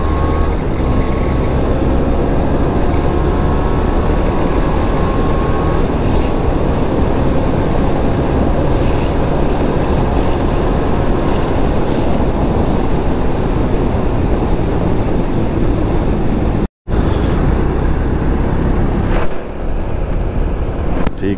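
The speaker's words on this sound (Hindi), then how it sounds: "तो चलो चलते हैं डोमिनार के साथ, करते हैं हाइपर राइडिंग," A Bajaj Dominar 400 motorcycle ridden hard at speed, a loud continuous engine roar with heavy wind buffeting throughout, broken by a brief dropout near the end; no voices.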